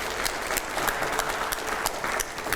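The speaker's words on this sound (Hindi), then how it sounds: "जरा जोरदार तालियां बजाइए प्लीज" An audience applauds loudly on command during a televised Hindi political discussion event, a dense continuous wash of clapping with occasional louder individual claps throughout.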